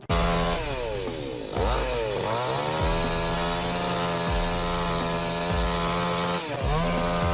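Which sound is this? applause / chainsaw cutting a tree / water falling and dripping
chainsaw cutting a tree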